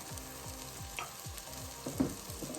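Onions, peppers and garlic simmer in a pan, giving a soft, steady low sizzle close by, with a faint repeating thump and a brief clink partway through; no one speaks.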